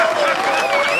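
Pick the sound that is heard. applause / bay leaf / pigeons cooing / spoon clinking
applause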